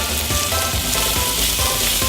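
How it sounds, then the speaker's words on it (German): Boiled potatoes sizzle in a hot frying pan as they start browning for Swiss-style fried potatoes, a steady, close, crackling hiss that continues for about two seconds. "als allererstes tun wir hier die super geschwellte anbraten"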